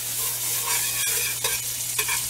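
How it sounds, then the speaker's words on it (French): Butter sizzles in a hot cast-iron pan greased before cooking bannock, a continuous crackling hiss with a few brief scraping stirs, loud and close, with no voices. "Quand ma poêle est chaude, je vais mettre un peu de beurre pour la graisser."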